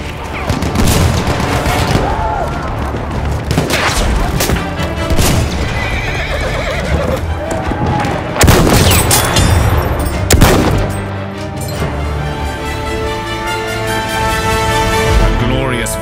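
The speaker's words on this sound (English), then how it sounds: "Machine gun!" Bursts of gunfire in a war video game, several loud rapid fusillades that clip out between horse whinnies, hoofbeats and dense battle noise, with shouting voices mixed in.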